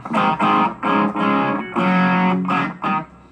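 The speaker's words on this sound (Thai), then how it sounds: "ผมจะตั้งเสียงแตกนะครับ เสียงแตกเป็นโอเวอร์ไดแล้วกันนะครับ" An electric guitar played through a Korg AX3000G multi-effects unit set to overdrive strikes a series of gritty, overdriven chords in short bursts separated by brief gaps, loud and close.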